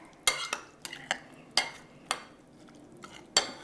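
Macaroni salad with chopped celery and red pepper stirred in a bowl, a handful of scattered spoon scrapes and clinks, moderately close and fairly quiet, with no talking.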